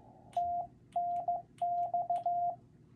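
Morse code tone beeps out TNX, a single steady pitch in crisp short and long pulses with brief gaps, clear and close over a faint hiss.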